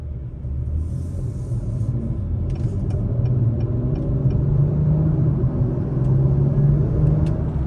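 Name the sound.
2021 Acura Type S turbo spooling up while driving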